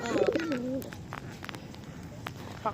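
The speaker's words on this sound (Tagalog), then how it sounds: "Pinag-aaway mo ba ang iyong pigeon?" Pigeons coo close by in a short throaty burst, followed by faint scuffling and fluttering, with light background noise.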